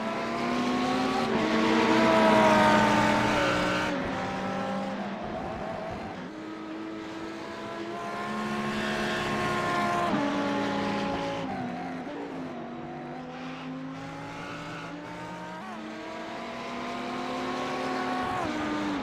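Race cars lapping NJMP Thunderbolt in a racing video game, engines droning with rising and falling pitch as they accelerate, shift and pass close by, a continuous layered roar with no voices over it.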